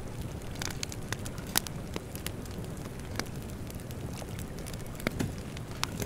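Video game sound effect of a campfire: steady crackling and popping, with sharp snaps scattered over a low, continuous rumble of burning.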